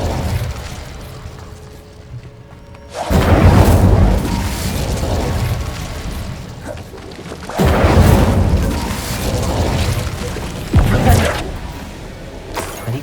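Fire spell Incendio cast in the video game Hogwarts Legacy, heard as several loud whooshing bursts of flame with booming rumbles, separated by quieter stretches of game ambience.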